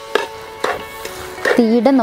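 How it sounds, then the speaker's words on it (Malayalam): Kerala-style plum cake fruit mix with cherries being stirred in a pan over a strong flame: a few scraping strokes against the pan over a faint sizzle, with brief squeaky tones near the end. "അടി കരിഞ്ഞു പോവാതെ ഇതേപോലെ നമ്മൾ കൈ വിടാതെ ഇളക്കി കൊടുക്കണം"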